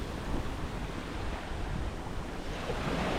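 Steady wash of sea waves breaking and rolling in at Lara Beach, Antalya, a continuous broadband rush with light wind over the microphone, no voices.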